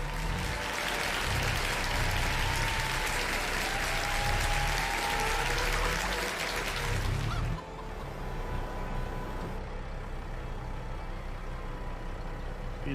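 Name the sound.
applause sound effect during Farming Simulator 22 stream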